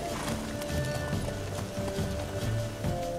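Rhythmic clip-clop of horse hooves trotting steadily in The Witcher 3 video game over a low ambient hum, close and moderately loud.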